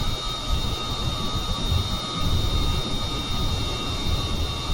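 Jet engine roar of an aircraft on landing approach in Kerbal Space Program, flown by autopilot toward a runway, a loud continuous droning hum with a steady whine held throughout.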